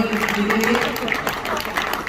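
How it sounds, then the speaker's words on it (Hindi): An audience at a poet's gathering honoring martyrs claps in a dense, even wash, with a voice sounding faintly underneath the brief burst. "तो इनके लिए तालियां बजाना भागीरथ जी के लिए"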